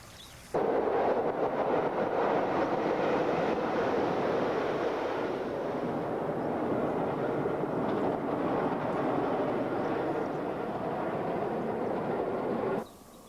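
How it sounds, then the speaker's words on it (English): A steam train passes on the Settle and Carlisle Railway near a bridge over the young River Eden, heard as a loud, steady rushing roar that holds unbroken for about twelve seconds, with no talk. "It's the perfect spot to wait for a glimpse of the occasional steam train."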